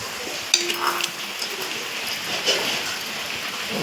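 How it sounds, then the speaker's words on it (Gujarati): Granulated sugar sprinkled over freshly made dhokla of fag leaves gives a soft, steady, rain-like patter, with a few sharper ticks near the start, fairly quiet and alone. "થોડી ખાંડ નાખી દઈએ"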